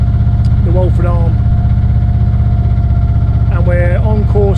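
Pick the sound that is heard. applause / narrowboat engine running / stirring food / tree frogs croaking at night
narrowboat engine running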